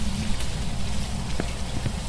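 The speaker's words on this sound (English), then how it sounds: "Raining. Sweet. It's raining." Steady rain in the ghost-hunting game Phasmophobia, a dense continuous hiss of drops falling on surfaces with a few sharper patters, moderately loud and constant throughout with no voices.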